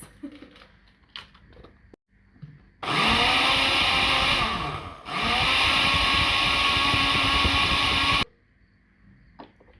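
An electric mixer beats cake batter with vanilla added, a loud steady motor whir running about five and a half seconds with a brief dip midway, then cutting off into quiet kitchen noise.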